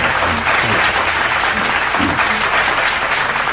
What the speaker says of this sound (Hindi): आप सबकी तालियां भरपूर होनी चाहिए।